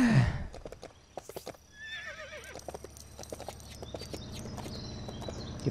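Horse whinnies and clip-clopping hooves in the video game LEGO City Undercover, riding through a mountain area; the wavering neigh rises mid-clip over a steady run of hoofbeats and ambient game sound.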